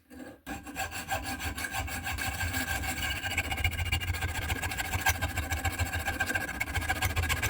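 A carbon fibre fishing rod being sawn through by hand, a steady rasping stroke repeating continuously and close up for several seconds, with no talking.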